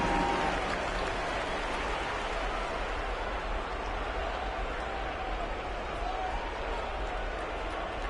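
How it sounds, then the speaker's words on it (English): Broad, dense crowd applause in an NBA 2K25 basketball video game arena fills the clip steadily from start to finish, a continuous wash of clapping and cheering. "Round of applause for young Clippers Spirit Dance Team."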